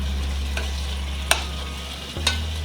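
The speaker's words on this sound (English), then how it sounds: "Just fry up a little bit." Chicken pieces frying for Jamaican stew chicken, a steady sizzle over a low hum, broken by a couple of sharp utensil knocks against the pot.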